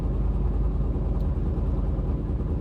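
A turbocharged Corvette sits in neutral with its fan running, the engine idling in a steady, close, low rumble that holds even throughout.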